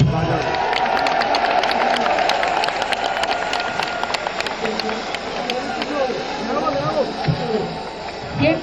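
Audience clapping and cheering at a political party workers' convention in Rawalpindi, a dense continuous wash of applause that holds steady and then thins slightly, with some scattered shouts mixed in.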